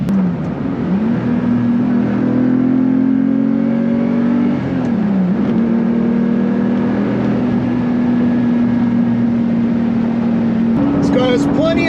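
A 1998 Lamborghini Diablo SV V12 pulling hard on a mountain road, its engine note climbing steadily through long gears with a brief dip at a shift, loud and close from inside the cabin.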